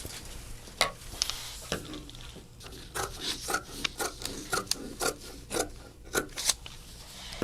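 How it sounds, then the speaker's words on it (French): Scissors snip through stretchy jersey knit fabric in a quiet room, giving a series of short, crisp cuts that quicken into a steady rhythm of rasping snips near at hand, with no talking. "couper le tissu extérieur sur cette ligne qui est un jersey knit extensible"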